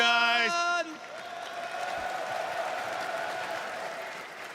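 A crowd at EVO France, a Street Fighter 6 fighting-game tournament, bursts into sustained applause and cheering after a brief opening tone, the clapping filling the hall steadily until the end.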